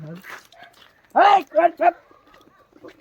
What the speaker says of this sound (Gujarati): આપણે કૂતરું કહ્યું ને ભસી રહ્યું છે